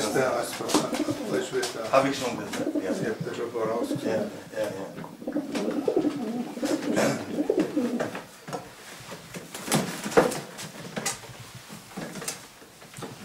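Pigeons coo softly and repeatedly in the background while someone talks over them, with occasional light knocks and shuffling.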